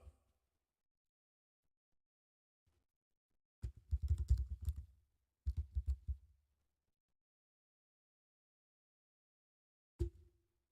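Typing on a computer keyboard comes as two short, faint bursts of close clicks and a single final tap, with near silence between them.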